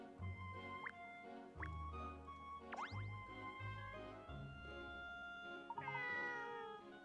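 A cat in the Layton mystery adventure game meows in a couple of short rising cries over soft, plinking background music with dripping sounds.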